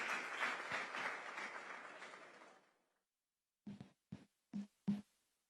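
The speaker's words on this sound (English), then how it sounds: "let's welcome her with a round of applause" Audience applause for a guest speaker at a WAEC awards ceremony in Ghana, a steady round of clapping fading out after about two and a half seconds, followed by a few isolated loud thumps or knocks.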